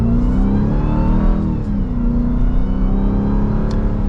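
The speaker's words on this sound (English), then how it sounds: "this engine seems to just want to rev" A supercharged 2023 Dodge Durango SRT Hellcat AWD engine drones loud and steady from inside the cabin, its pitch rising and falling slightly as it revs under acceleration, with no talking.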